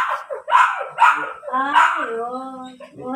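A husky being groomed gives several sharp barks and whiny yelps, close and loud, mixed with a person talking nearby.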